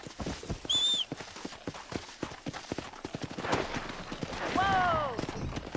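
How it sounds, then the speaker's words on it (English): Horse hooves clopping in the Western video game Red Dead Redemption, a run of light rhythmic clip-clops mixed with game sounds and a whistle-like tone, moderately quiet and fairly close. "Let's see if we can't wrangle some horses."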